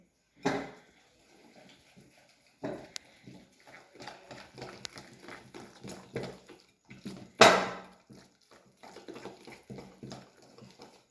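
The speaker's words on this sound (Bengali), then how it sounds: "এবার আমি হ্যান্ড হুইস্কার দিয়ে ভালোভাবে মিশিয়ে নেব" A hand whisk knocks against a bowl as milk is beaten into eggless fruit cake batter, giving irregular clattering strokes in short bursts with pauses between them. The sound is close and moderately loud, with no voices.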